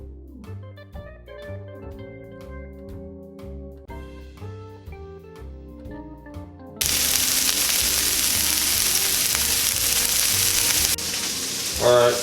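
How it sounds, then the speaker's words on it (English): Meatballs brown in a pan, turned to their second side, with a loud steady sizzle and spatter of frying that starts partway through after a stretch of music, then holds constant to the end. "our meatballs have been browning on the second side for about 3 to 4 minutes"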